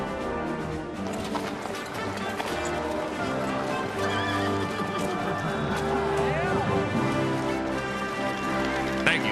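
Horse hooves clip-clop steadily through a busy medieval scene in Kingdom Come Deliverance II, with whinnies, light rain and voices layered over dense continuous ambience.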